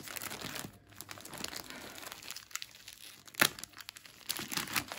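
Packaging around a parcel of yarn crinkling and rustling as it is torn open: close, irregular bursts of crackly plastic handling with a few sharper tearing spikes, no speech.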